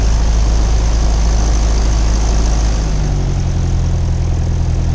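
Small propeller airplane engine turning over before takeoff, a loud, close, steady low rumble and drone that shifts slightly in pitch partway through, with no voices over it.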